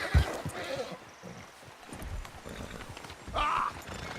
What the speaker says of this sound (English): Get hold of that horse, Arthur.